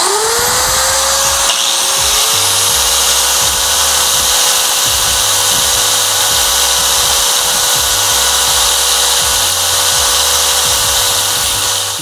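A power tool grinds down hard steel, a loud continuous high whine that stays steady, with a rhythmic low chugging under it and no voices.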